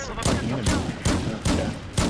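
Battlefield 4 gunfire comes as a steady series of about six loud, sharp shots at a regular, moderately quick rhythm, heard up close with some voice activity mixed in.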